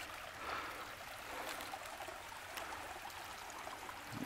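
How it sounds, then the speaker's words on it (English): A small rambling creek with brownish water runs in a soft, continuous trickling wash, faint and steady throughout with no voices. "You can hear the water running, see?"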